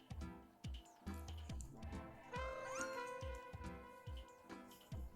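Several cats meow indoors in a new living room, short cries and calls repeating every second or so, fairly close, with a longer drawn-out wail in the middle and a faint room hum beneath.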